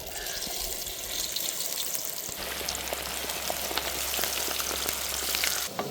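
Pieces of chicken 65 deep-frying in hot oil over lowered heat, a steady dense crackle and sizzle close by with a low hum beneath and no talk.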